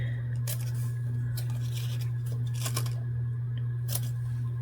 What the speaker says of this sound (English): I'm just going to cut these about 1 inch